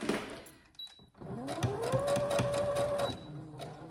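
A domestic sewing machine stitching a single point through fabric while a baby burp shoulder protector is sewn, a short whirring mechanical run with a rising then steady motor tone, close up and without talk.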